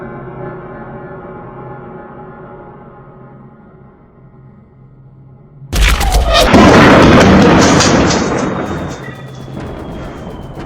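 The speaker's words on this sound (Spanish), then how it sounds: "la artillería alemana escupió su fuego letal, lanzando miles de obuses que demolieron el campo" A deep boom of WWI artillery at the Battle of the Somme bursts in midway over a steady musical drone, followed by a roaring, rumbling explosion that slowly fades.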